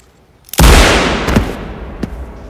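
A single sharp, loud gunshot from a .357 Magnum revolver with a six-inch barrel, followed by a fading echo and a couple of faint clicks or knocks.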